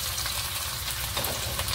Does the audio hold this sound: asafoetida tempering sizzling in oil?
yes